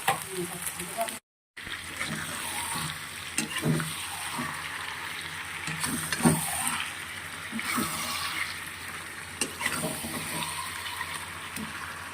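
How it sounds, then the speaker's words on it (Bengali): Onion frying in a pan makes a continuous, moderate hissing sizzle with a few small knocks and clatters, while faint voices murmur in the background. "এখন পেঁয়াজটাকে ভেজে নেবো"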